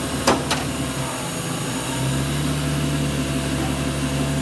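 A cold, untuned V12 twin turbo engine fitted in a BJ40 LandCruiser runs with a steady, close, rough drone, its note stepping up about halfway through after a couple of sharp clicks at the start.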